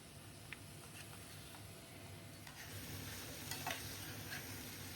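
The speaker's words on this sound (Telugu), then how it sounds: "ఈ తాలింపులో చికెన్ కూడా కాసేపు ఫ్రై అవ్వాలి" Chicken pieces fry on high flame in a garlic-ginger tempering, giving a steady close sizzle with occasional stirring scrapes and spatters, growing a little louder toward the end.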